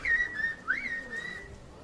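A person whistles in kuş dili, the whistled language of the eastern Black Sea region of northern Turkey, producing a close, clear, continuous melodic whistle with gliding pitch and short breaks.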